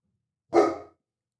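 A single sharp dog bark, loud and close, standing alone in silence.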